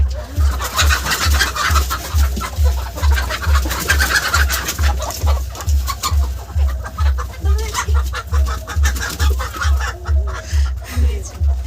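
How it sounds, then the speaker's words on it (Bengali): Native deshi chickens clucking close by in a home yard, with repeated cackles and clucks over a steady rhythmic low thumping in the background. "দেখুন বন্ধুরা, এই হচ্ছে মুরগি।"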